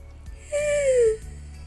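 A person imitates a high-pitched yawn, a single rising-then-falling vocal whine lasting about half a second, close and clear against a quiet background.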